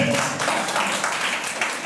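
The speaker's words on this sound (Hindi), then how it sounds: "प्रभु के लिए जोरदार ताली बजाइए।" A church congregation claps loudly together in praise during a sermon, a dense, steady wash of applause filling the whole moment.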